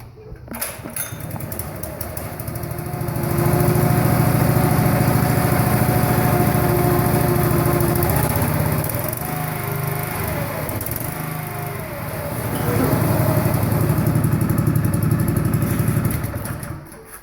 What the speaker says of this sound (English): I'll go ahead and fire up the machine so you can hear it running